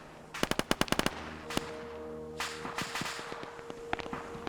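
A video game machine gun fires a quick burst of sharp cracks, followed by a few scattered shots and a low engine-like hum, moderately distant and alone without talk.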